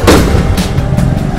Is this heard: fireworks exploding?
yes